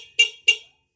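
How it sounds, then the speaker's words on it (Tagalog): Two short, bright horn beeps close by, evenly spaced, followed by silence. "Pipinutin natin yung busina."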